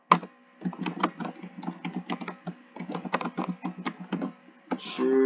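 Fingers typing on a computer keyboard while writing in Word: rapid, uneven clusters of crisp key clicks, close and clear, with brief pauses between bursts and a short muffled rustle near the end.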